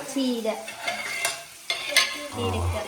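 Crab fry being stirred in a hot pan, a steady close sizzle broken by scraping strokes of the spoon, with a louder burst of frying near the end.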